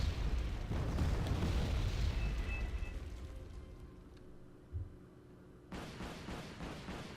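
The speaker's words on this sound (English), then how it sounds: "And there's napalm artillery." Napalm artillery barrage in the video game Wargame Red Dragon: heavy, rumbling booms that start loud and broad, roll off into a fading low roar, then swell again with a later burst.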